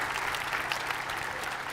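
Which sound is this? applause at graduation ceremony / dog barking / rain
applause at graduation ceremony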